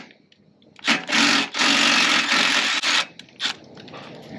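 Impact driver backing 3/8 tek screws out of a bent Lippert stabilizer jack on a Forest River Salem FSX travel trailer: several loud broadband bursts of whirring and rattling, a long one in the middle and short ones after, separated by brief pauses.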